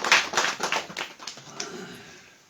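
An audience applauds to welcome someone: a burst of clapping from many hands that starts strong, then thins and fades away over a couple of seconds.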